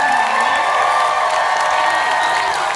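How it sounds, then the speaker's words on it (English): Loud, continuous crowd cheering and applause for cosplay contestants at a fan expo masters-of-cosplay finale, with whoops and shouts layered over dense clapping for the whole stretch. "let's give a huge round of applause to our"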